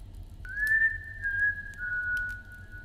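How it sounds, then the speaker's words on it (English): A man whistles a soft, sustained single tone that holds steady for a couple of seconds, fairly close and alone over a faint low hum. "He whistled softly as he continued his search"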